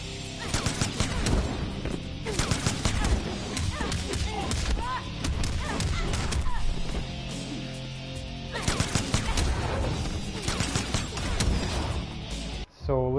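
Rockets and projectile blasts from the fighter Jacqui in a fighting video game, a dense run of repeated bursts and impacts layered over game music, continuous and loud for most of the stretch.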